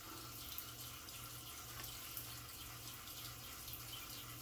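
Water runs steadily from a sink tap while a razor is rinsed after a shave, a soft continuous splash and hiss at low volume with a few faint clinks.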